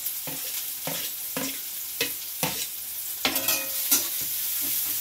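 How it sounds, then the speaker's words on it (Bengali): Chopped onions fry in hot oil for a Bengali fish chop filling, with a loud close sizzle and a steady rhythm of spoon strokes scraping the pan about twice a second. No one speaks. "তেল গরম হয়ে গেছে, এবার কুচিয়ে রাখা পেঁয়াজগুলো দিয়ে দিচ্ছি।"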